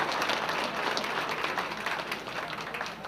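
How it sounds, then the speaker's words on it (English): Sustained applause from a banquet audience at a sports hall of fame enshrinement, dense steady clapping filling the room for several seconds. "let's give everyone in here a nice round of applause."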